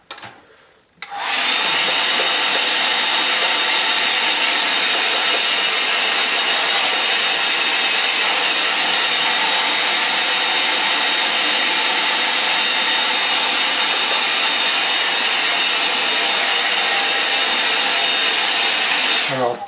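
A hair dryer blows steadily on a wet black line and wash painting, a loud continuous broadband whoosh switching on after about a second and running unbroken to the end, with no talking.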